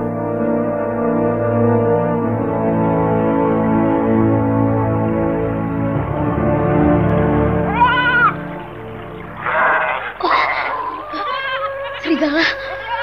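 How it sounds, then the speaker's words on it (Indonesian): Goats and sheep bleat while lying in grass, and several short, wavering calls rise over a steady droning background near the middle and end. "Kambing-kambing domba piaraan Sukmo berbaring di rerumputan"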